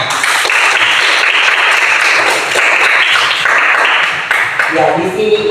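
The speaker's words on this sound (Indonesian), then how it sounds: "Tepuk tangan." Classroom of pupils clapping, a steady dense patter of many hands lasting throughout, with children's voices mixed in and rising near the end.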